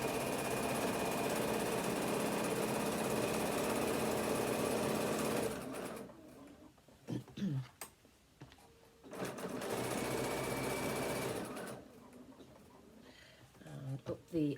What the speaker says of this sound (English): I'm just stitching down the very edge, keeping all those edges together